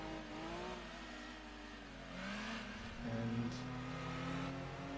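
Race car engine in the Gran Turismo 2 video game, steady and loud as it drives through the final corner of a lap, with rising and falling pitch as the revs change and no talking.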